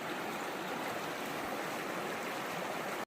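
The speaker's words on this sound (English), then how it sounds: "I have to make my first ford of the Amiskwi River." The Amiskwi River flows as a steady, close stream, with dense rushing water filling the whole stretch alone before it cuts off abruptly at the end.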